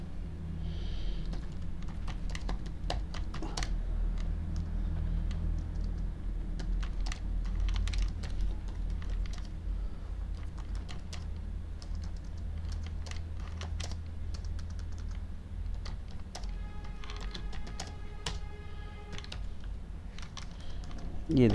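Close, steady typing on a computer keyboard, with irregular quick key taps running continuously for about twenty seconds over a low room hum, with a few sharper clicks near the end.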